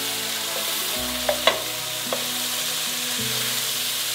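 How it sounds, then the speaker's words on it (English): Bruised garlic cooks with pancetta in a pan for spaghetti carbonara, giving a steady close sizzle and crackle, with a few sharp spits and light stirring clinks. "we're just going to let it cook in there with the pancetta"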